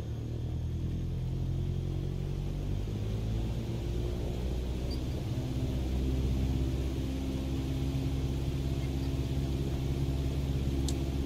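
Single-engine propeller drone of a Grumman AA-5B Tiger at run-up in a flight simulator game, a steady, loud, even roar with a low rumbling hum that holds constant throughout, no talk over it.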